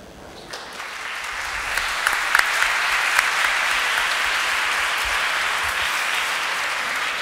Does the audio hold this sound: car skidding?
no